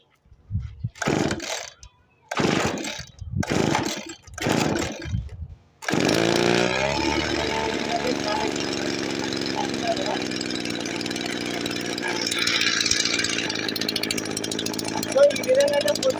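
A petrol-engine water pump motor runs with a loud, steady buzzing drone after a few seconds of speech, holding constant close by with slight fluctuations near the end.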